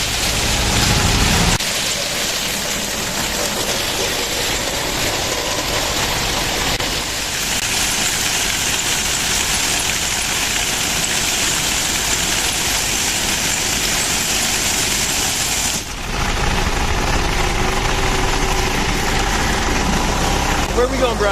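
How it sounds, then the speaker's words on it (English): A farm tractor engine runs steadily through a walnut harvest, a broad continuous rumble and hiss close by that holds its level throughout, with talk over it. "we got another tractor that comes out here"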